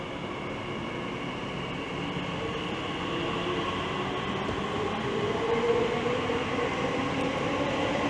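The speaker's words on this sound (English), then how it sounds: "So, 345-006 is now departing." An electric Class 345 passenger train hums and rumbles steadily as it departs Romford station on the Great Eastern Main Line, the motor whine rising slightly as it gathers speed, with no voices.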